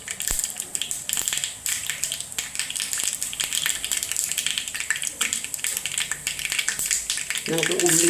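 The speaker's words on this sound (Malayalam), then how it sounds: "കടുക് പൊട്ടട്ടെ" Mustard seeds crackle in hot oil, sharp irregular pops and snaps scattered over a continuous frying hiss, close and fairly loud.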